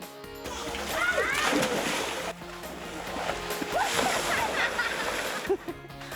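People splashing in the swimming pools of a mountain resort in Argao, a steady wash of splashes and churning water with children's voices and chatter mixed in, moderately close.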